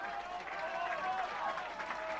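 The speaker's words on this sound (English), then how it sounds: "And now listen to the applause for the Oldham team as they come off." A crowd applauding the Oldham rugby team as it leaves the pitch after a heavy defeat, a steady, distant wash of clapping and murmur with no break.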